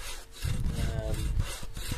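Close, rhythmic sawing through wood in a video game, back-and-forth rasping strokes repeating steadily with no one speaking.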